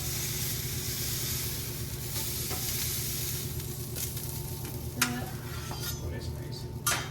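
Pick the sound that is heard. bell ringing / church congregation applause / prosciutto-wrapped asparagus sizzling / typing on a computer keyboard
prosciutto-wrapped asparagus sizzling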